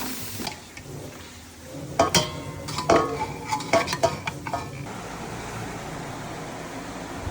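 A spoon or spatula stirs a salted fry in a metal pan, with scraping and clinking strokes in a short burst over a soft background hiss, quiet and close.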